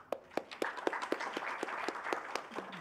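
Audience applause for the panel at an academic talk on Sudan's military politics, heard from a distance as fairly faint, steady clapping with distinct individual claps standing out over a low murmur.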